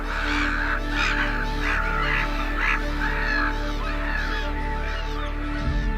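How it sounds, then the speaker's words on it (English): Waders, wildfowl and gulls gather in flocks at a wetland, giving loud, overlapping honks and harsh caws in a continuous chorus. "Every year, thousands of waders, wildfowl and gulls fly in, some from as far as Siberia, to feed and breed here."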